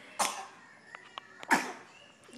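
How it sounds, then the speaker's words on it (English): A small child sneezes twice, sharp bursty exhalations close to the microphone, separated by a short quiet gap with faint small sounds between. "Oh, sneeze."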